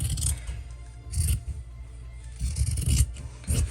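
Scissors trimming sewn fabric seams for a Christmas gift, with several short crisp snipping cuts in irregular bursts, close and alone.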